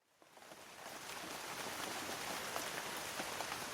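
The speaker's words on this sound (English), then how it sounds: "The first heavy drops of rain drummed onto our boats." Heavy raindrops drum onto paddling boats on a river, a dense steady patter that builds within the first second and stays loud and close, with no voices.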